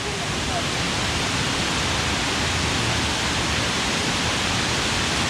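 Kroeng Krawia waterfall in western Thailand pours in a dense, unbroken roar of rushing water, loud and even throughout.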